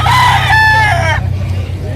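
A gamecock crows loudly and close by at a pet market, one long strained call that cuts off abruptly, over a low background hum.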